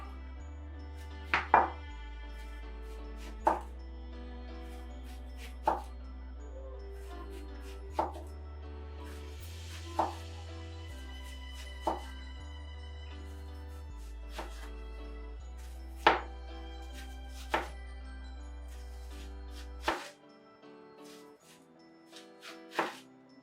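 A knife slices an onion into thin rings for burgers, about ten crisp knocks on the board at a slow, even pace over soft background music.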